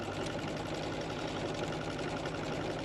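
A sewing machine runs steadily, stitching through a quilted placemat, its rapid mechanical whir and needle chatter close and continuous without pause.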